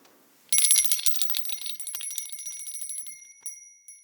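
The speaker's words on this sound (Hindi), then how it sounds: "आपने सभी ने घंटी सुनी।" A small metal bell is struck rapidly, a bright ringing burst that jangles for a few seconds and then decays into a lingering tone, clear and close with no talk.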